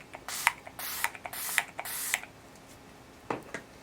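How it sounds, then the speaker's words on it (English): A Body Shop Strawberry Smoothing Face Mist spray bottle gives four quick hissing spritzes in a steady rhythm, close and fairly loud, followed by a pause and a couple of softer clicks or handling sounds. "This is the Body Shop Strawberry Smoothing Face Mist"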